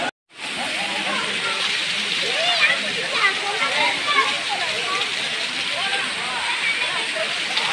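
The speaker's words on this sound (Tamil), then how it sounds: "மேலேருந்து எப்படி அருவி வந்து விழுகுதுன்னு பாருங்க." Aintharuvi, the five-stream waterfall at Kutralam, pours down in a steady, loud, unbroken roar of rushing water, with faint voices in the background.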